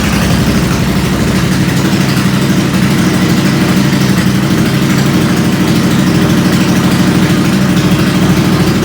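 A Royal Enfield Interceptor 650 motorcycle engine idles with its silencers removed, a loud, steady, deep rumbling throb that holds even and close throughout with no talk.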